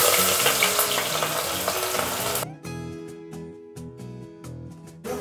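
Chopped onions fry in mustard oil, giving a loud, dense sizzle for about two and a half seconds that drops suddenly. Quieter crackling follows, and the sizzle surges again at the very end.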